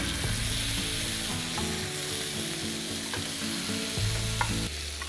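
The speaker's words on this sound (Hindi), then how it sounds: "मैरिनेटेड मीट ऐड करें इसी के अंदर और प्रोसेस बिल्कुल जारी है और इसे आपने अच्छी तरह से मिक्स करना है" Marinated meat for Irani kabab frying in hot oil while being stirred, a dense, loud, continuous sizzle with scraping and mixing sounds throughout and no voices.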